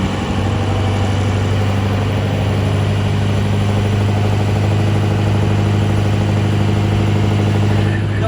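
A 6.0 diesel truck engine idles with its turbo, a loud, close, steady rumble with a constant low drone and a faint high whine, going on the whole time without pause.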